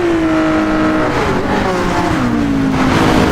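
Race cars lap Fuji Speedway in Gran Turismo 7 in heavy rain, a loud sustained engine drone with gliding pitch as the cars shift and pass, steady and continuous throughout.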